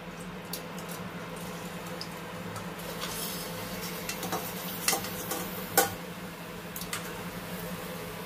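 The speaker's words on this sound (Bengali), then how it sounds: "এরপরে আবার বাদ বাকিগুলো এইভাবে ভেজে নিচ্ছি।" Sweet potato langcha sweets frying in oil, a soft continuous sizzle with occasional ticks and clinks of a utensil against the pan, close and low in level, no talking.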